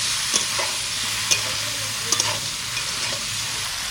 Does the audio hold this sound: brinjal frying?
yes